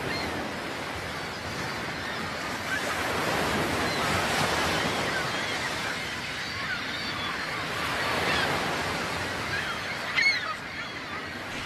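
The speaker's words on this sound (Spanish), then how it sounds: "El revuelo de las gaviotas avisa a los peregrinos de la proximidad de su meta." Seagulls call and honk over rolling ocean surf at Finisterre on the Galician coast, the waves surging in slow swells with wind beneath and a brief sharp cry near the end.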